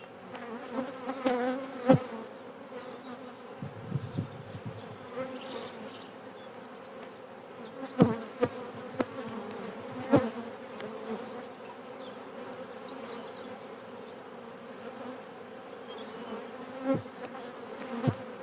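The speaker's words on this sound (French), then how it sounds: "je fais légèrement frotter le cadre contre le cadre de la ruche, ce qui fait tomber les abeilles dans la ruche" Honeybees buzz steadily around an opened beehive as a frame is rubbed against the hive frame after wintering, with occasional knocks and clicks of wooden frames over the continuous close hum.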